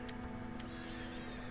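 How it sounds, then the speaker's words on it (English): Horses neighing outside a base in the video game RimWorld, a faint whinny in the game's audio over a steady low hum, with brief high bursts standing out. "Oh, horses outside."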